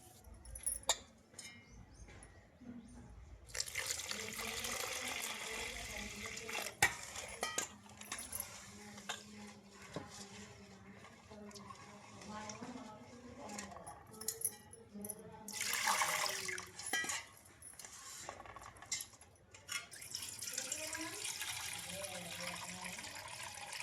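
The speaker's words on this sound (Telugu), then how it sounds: "ఇప్పుడు నేను అయితే శుభ్రంగా కడుక్కొని నానబెట్టుకుంటాను" Half a kilogram of idli rava being rinsed clean with water before soaking: uneven splashing and pouring surges, swishing and occasional clinks, loudest in bursts around the middle of the stretch.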